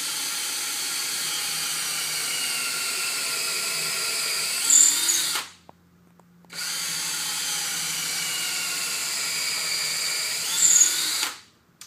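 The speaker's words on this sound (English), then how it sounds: "I'll go ahead and drill another hole here." Power drill boring holes into a log for mushroom dowels, two long steady high-pitched whining runs separated by a brief pause, close and loud with no talking.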